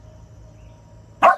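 A single loud dog bark bursts out near the end, close and sharp, after a stretch of quiet low room hum.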